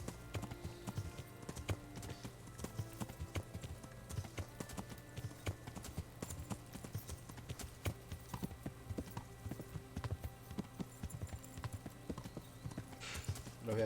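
Horse hooves clip-clop in a continuous, even rhythm as a rider travels on horseback in a medieval video game on extreme difficulty, heard clearly on their own with no talk.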